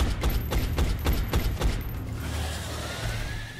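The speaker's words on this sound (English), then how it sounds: "nice shooting, Dex." Rapid volleys of gunshots from XCOM: Enemy Unknown, a rhythmic burst of about eight sharp reports, followed by quieter game ambience; no talk.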